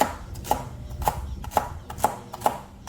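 A knife chops vegetables steadily on a cutting board for a Dominican chicken dish, six crisp evenly spaced knocks about half a second apart, close and clear with no talking.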